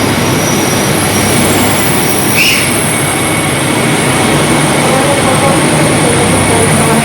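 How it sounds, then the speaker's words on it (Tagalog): Inside a Hokuto limited express train running through snowy, foggy Hokkaido toward Noboribetsu, a loud, constant rumble of wheels and carriage fills the space, with a brief high squeal partway through and no speech. "We're now in Hokuto Express train on our way to Noboribetsu."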